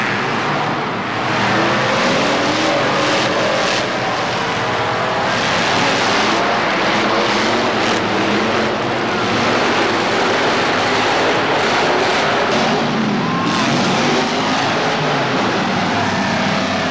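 Monster trucks competing two at a time at the TNT Supernationals, crushing cars and jumping hills: a dense, continuous roar of engines and crowd din, loud and steady throughout with no clear breaks.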